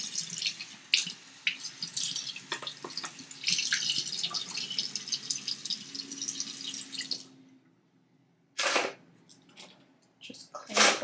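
A tap runs into a sink while an item is washed, with splashing and squishing that stops near the end, followed by a few short splashes and drips, close by.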